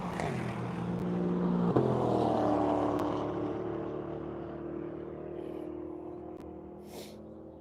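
A Viper and an AMG race car pass by on the Grattan circuit during the One Lap of America, engine roar swelling to a peak then fading as the cars pull away, with a light whoosh.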